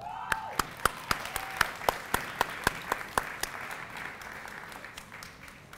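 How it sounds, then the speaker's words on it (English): Applause at a dual enrollment celebration for high school participants: a steady run of crisp, evenly spaced claps, fairly close and distinct, thinning out and fading over the last couple of seconds. "so let's just give a round of applause"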